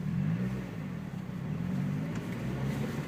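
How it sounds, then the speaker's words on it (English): A manual transmission car pulls away gently from a stop, its engine humming low and steady without revving high, heard from inside the cabin at a moderate, even level with no talking. "This is a normal, good, gentle launch on a car, like this."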